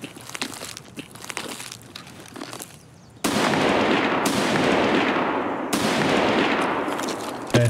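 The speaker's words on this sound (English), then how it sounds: "that was the AK we heard" AK rifle fire in Escape From Tarkov: quiet ambient sounds and faint distant shots give way to two sudden loud bursts of gunfire, each sustained for a second or more with a sharp onset.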